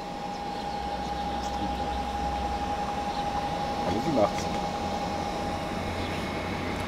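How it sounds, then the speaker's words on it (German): The cooling fan of a BigBlue CP600 portable power station spins fast, giving a steady, moderately loud whine and airy hum that runs unbroken throughout, with faint voices in the background. "also der Lüfter ist relativ laut"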